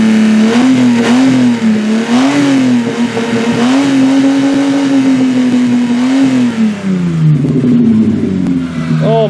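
A Toyota engine drained of its oil and transmission fluid and left to die, revving hard and droning loudly with a wavering pitch that sags toward the end, close by and without talk.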